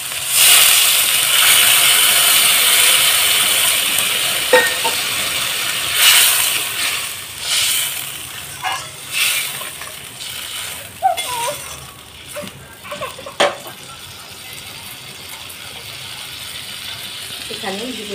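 Water poured into spice paste frying in oil for a tilapia fish curry sets off a loud, broad sizzling hiss that gradually fades, broken by clinks and scrapes of utensils, with a voice talking over it.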